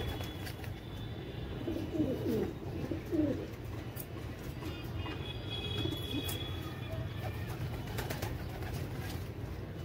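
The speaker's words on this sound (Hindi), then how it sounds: "ये कबूतर है" Pet pigeons cooing in soft, low bursts early on, set against a steady ambient background with faint distant rumble.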